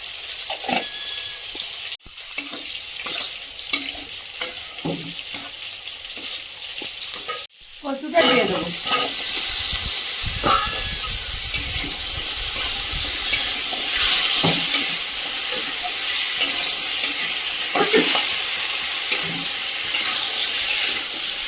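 Taro (kochu) cooking with salt, turmeric, cumin and chili powder in a pan, a loud continuous sizzle and frying hiss with repeated spatula stirring and scraping, a short pause before the sizzle swells, no voices.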